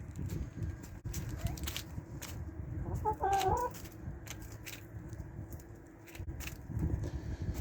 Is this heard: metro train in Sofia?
no